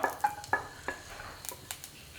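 Garlic dropped into hot coconut oil in a kadai, with a steady low sizzle under a few close metallic clinks and scrapes of a spoon against the pan.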